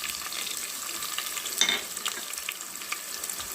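Onions fry in hot oil for Telangana-style bagara rice, giving a soft, steady sizzle with one sharper crackling flare midway and light pops throughout, heard close with no talk.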